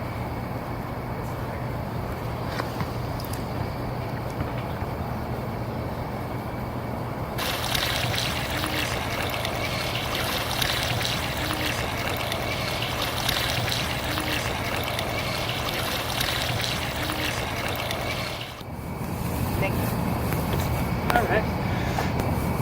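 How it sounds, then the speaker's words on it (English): A bucket of water poured onto a newly planted tree, a steady broad splashing and trickling that carries on for most of the time, with someone talking over it outdoors. "So I just added another bucket of water."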